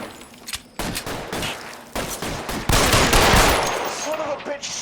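Rapid bursts of gunfire in the video game L.A. Noire, several loud fusillades of automatic shots in close succession, building toward a dense volley near the end.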